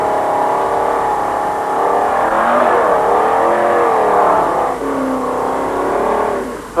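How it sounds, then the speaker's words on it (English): A rally car on a Dakar 1998 stage, heard from inside the cockpit, with the engine revving hard and steadily, pitch rising and falling through the gears, loud and continuous with no speech. "In car with Ragland and Riviere"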